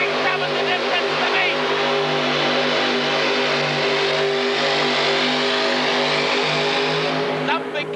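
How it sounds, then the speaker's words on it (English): A supercharged mini rod pulling tractor engine screams at full throttle as it leaves the line at a 1986 indoor tractor pull, a loud sustained high-revving roar with an announcer talking over it. "He leaves the line, screaming the motor."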